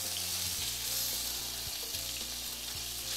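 Bacon frying in fat in a cast iron skillet, a strong continuous sizzle up close with a few soft scrapes and clicks from turning the strips, no talking.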